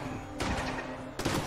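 Gunshots fired in a video game: two short bursts of rapid fire, the first longer, the second a moment later, both fairly loud over a steady game background hum, with no talk.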